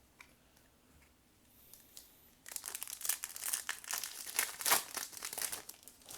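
Close crinkling and tearing of a Future Card Buddyfight card pack foil wrapper, starting abruptly after a quiet moment and continuing in busy rustling bursts.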